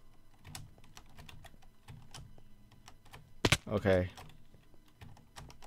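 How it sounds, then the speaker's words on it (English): A computer keyboard's spacebar and keys are tapped during a Minecraft parkour session, giving light, steady clicks up close, briefly interrupted by a short spoken word. "I hit the spacebar button!"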